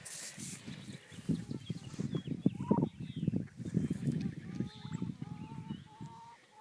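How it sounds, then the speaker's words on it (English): Chickens clucking and squawking as they peck at food, a steady run of short, close-up calls with occasional louder honking cries, some faint voices underneath. "The chickens shall finish it off!"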